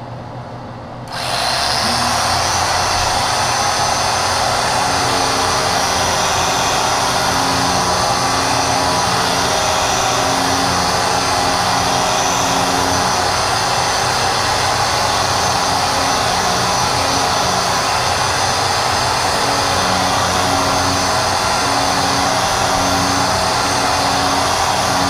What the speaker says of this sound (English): And I'm going to use my inline sander.